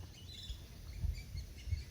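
Bird chirping beside a park lake at Brazos Bend State Park, faint and distant calls over low outdoor rumble and wind.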